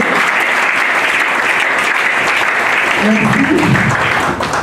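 Audience clapping loudly and steadily for the NGO Action Plus at its official launch, a dense sustained applause with a voice briefly speaking over it near the end.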